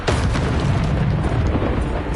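The Bombarda spell in Hogwarts Legacy goes off as a loud, sustained booming blast with a rumbling, dense roar that fills the whole moment, with no voices over it.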